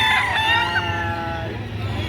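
A rooster crows once, loud and close, at a livestock auction where chickens are being sold, the drawn-out harmonic call fading over about a second against a murmur of crowd and background noise.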